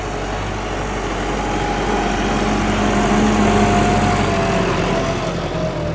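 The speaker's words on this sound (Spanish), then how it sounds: "va el tractor en el mismo lugar" A tractor drives a reversible plough through a field, its engine droning steadily and loudly with a constant mechanical hum throughout, no voices over it.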